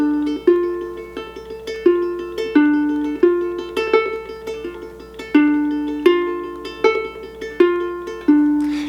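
Solo ukulele plays St James Infirmary with tremolo picking, a fast, shimmering flutter of repeated plucked notes with steady, evenly spaced thumb melody notes, alone and clear.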